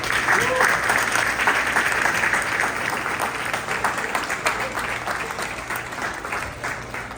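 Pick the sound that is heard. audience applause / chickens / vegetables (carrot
audience applause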